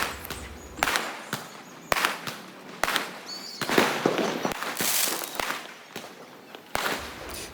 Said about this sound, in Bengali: এখানে আসার পরেও তো দারুণ সুন্দর বাজি ফাটছে